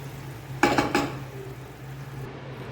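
A flat tawa griddle pan is set down on a kitchen stove, giving a few quick metallic clanks in a short cluster over a low steady hum, with no talk.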